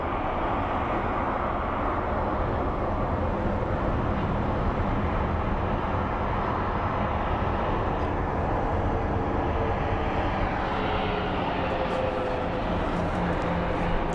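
A Southwest airliner passes at Phoenix Sky Harbor airport, its engines a steady, broad roar that holds loud and constant for the whole stretch.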